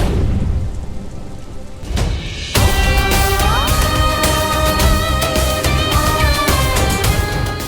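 Steady, heavy rain pours down with rumbling thunder, loud and close throughout; after a couple of seconds layered musical tones rise over the downpour.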